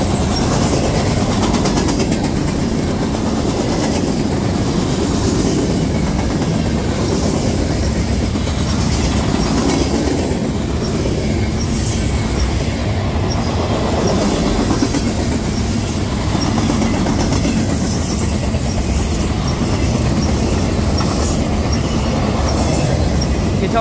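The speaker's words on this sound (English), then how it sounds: "Second rear train in a row in just a matter of minutes." CSX freight train led by a Dash 8 locomotive, number 7916, rolls past up close, a loud steady rumble of railcars with clickety-clack wheel beats and faint squealing throughout.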